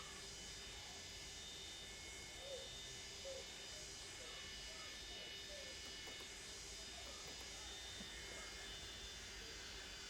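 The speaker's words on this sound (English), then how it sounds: "keep engine number 3 running so we can shut the doors" A Boeing 727 engine idles steadily in Microsoft Flight Simulator 2024 on an Ansett flight from Alice Springs to Perth, a faint constant whine and hum with a few soft clicks.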